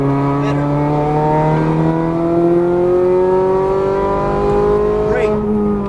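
Ferrari 430 Scuderia engine on a track, pitch climbing smoothly under throttle in a loud, sustained wail heard from inside the car, with a driving instructor talking over it.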